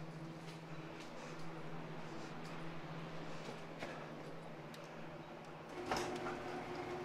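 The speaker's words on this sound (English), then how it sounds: "Let me shut this door for you." A newly installed Menards residential garage door rolling closed, a steady low mechanical hum and rattle of moving panels that ends in a thud as it settles.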